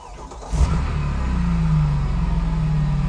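Car engine revving in the racing video game The Crew Motorfest, a loud, steady mid-pitched engine note that rises after a brief burst and holds on strongly, with no talking.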